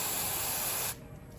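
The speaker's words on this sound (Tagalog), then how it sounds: "So ang paglinis sa kanya, i-spray mo lang siya mabuti" Carburetor cleaner sprayed from an aerosol can onto a car's MAF sensor, a loud steady hiss that stops abruptly about two-thirds of the way through and leaves faint noise behind.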